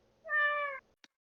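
A single cat meow, a fairly loud, clear, drawn-out tone lasting about half a second, heard alone and followed by a faint short click.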